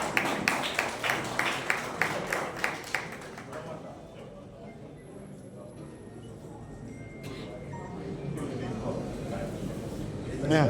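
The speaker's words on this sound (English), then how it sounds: "Let us give a big hand of applause for an appreciation of their invaluable service" Audience applause at a Rotary Club of Nagercoil installation ceremony, a burst of rhythmic clapping at the start that fades into a murmuring crowd, with a voice speaking over the room.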